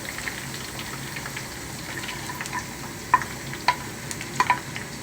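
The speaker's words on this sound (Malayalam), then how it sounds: "അടുത്തായിട്ട് നമുക്ക് എടുത്ത് വെച്ചിരിക്കുന്ന വെളുത്തുള്ളി ആഡ് ചെയ്യാം." Garlic cloves fry in hot oil with already crisped curry leaves for a garlic pickle, giving a soft, steady sizzle with a few sharp spoon clicks toward the end.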